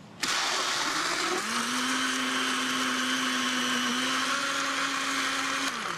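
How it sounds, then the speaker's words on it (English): A blender mixing a cocktail whirs loudly and continuously for several seconds, its motor pitch rising as it spins up, then cutting off abruptly. "we're ready to turn on the blender"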